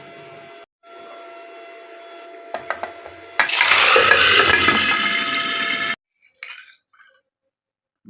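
Hot baghar tempering poured into black mash dal, bursting into a loud, bright sizzle that hisses for a few seconds after some clinks of a utensil, then cuts off, followed by a couple of faint clinks.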